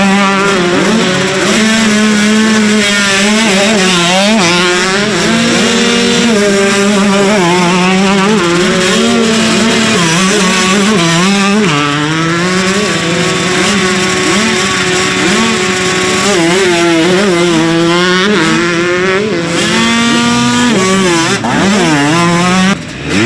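Several motorcycles at a practice facility fire up and rev together, engines loud and close, pitch rising and falling in overlapping sweeps throughout with no talking.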